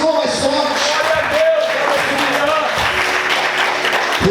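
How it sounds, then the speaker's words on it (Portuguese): A church congregation claps loudly during a worship service, with a continuous burst of applause mixed with some voices and a sustained tone underneath. "Aplauda o Senhor mais forte."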